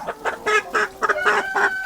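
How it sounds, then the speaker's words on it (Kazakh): A hen held in hand clucks loudly and close in a quick series of about seven agitated calls, with no voices over it. "Мына тауық."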